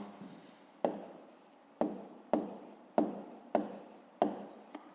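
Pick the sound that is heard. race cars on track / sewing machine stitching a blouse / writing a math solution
writing a math solution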